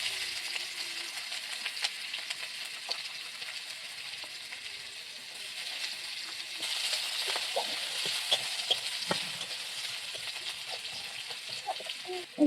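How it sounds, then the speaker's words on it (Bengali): Green and dried chillies fry in hot oil with garlic, a continuous close crackling sizzle that swells midway, with scattered pops and light stirring clinks, no voices over it. "এই লঙ্কাগুলো ভাজবো ভালো করে, একটু লাল লাল করে।"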